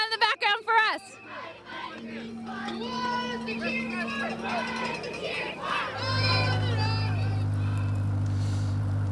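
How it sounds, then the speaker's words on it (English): Crowd cheering along the course of the Toronto Waterfront Marathon, a loud mix of shouts and excited voices that swells into a dense roar toward the end, with a commentator talking over it. "They've got a special cheer going on in the background for us."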